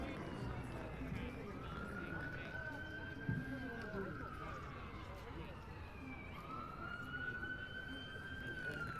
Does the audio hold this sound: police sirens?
yes